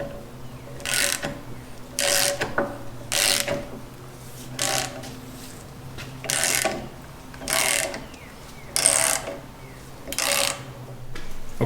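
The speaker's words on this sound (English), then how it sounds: "I'm gonna have to break down and get the ratchet." A ratchet wrench turning on a super rusty axle U-joint clicks in steady, evenly spaced bursts of ratcheting about once a second, close and fairly loud with no talking.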